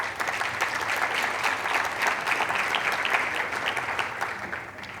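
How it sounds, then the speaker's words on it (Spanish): Sustained applause from a convention audience at a Spanish-language finance panel, a dense even roar of many clapping hands, steady throughout and tapering slightly at the end, with no voices on top. "Un aplauso para ella, por favor"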